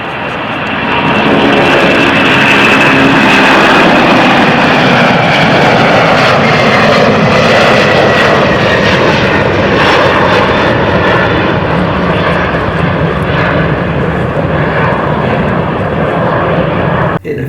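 Steady, loud roar of aircraft engines fills a passenger plane cabin on a flight from Australia to Bangkok, a constant broadband drone with no breaks and no voices.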